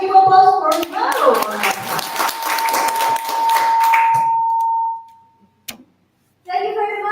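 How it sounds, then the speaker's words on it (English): Audience applause for a student speaker, a burst of clapping mixed with voices that trails off into a sustained tone before silence, then talk resumes. "Let's give applause for Maro."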